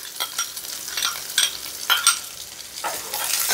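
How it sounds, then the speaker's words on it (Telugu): Onions frying in hot oil with cumin and mustard seeds, a steady close sizzle broken by repeated scraping stirs at an even pace. "ఇప్పుడు ఆనియన్స్ వేసుద్దాం"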